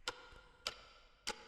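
Three sharp ticks from a clock sample in a producer's sample pack, spaced about six tenths of a second apart, crisp and close against a quiet background.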